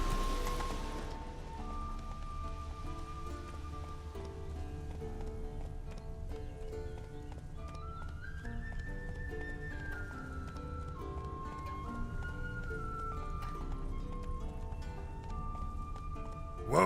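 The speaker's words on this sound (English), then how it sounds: "Whoa there, Roach." Hoofbeats of the horse Roach in The Witcher 3 clip-clop steadily throughout, close and fairly loud, layered over a sustained orchestral music bed with no talking.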